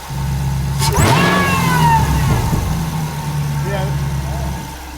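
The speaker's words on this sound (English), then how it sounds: "I'm gonna fire it up, rev it a couple times." A car engine with a supercharger under a carbon fiber lid idles, then revs up once with a rising and falling whine before settling back to a low idle, close and loud.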